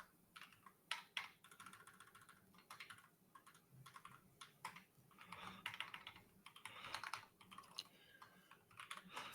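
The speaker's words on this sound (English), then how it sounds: "I couldn't tell how loud is the mechanical keyboard" Quiet, clicky keystrokes on a mechanical keyboard in irregular bursts, with occasional louder key presses and no speech.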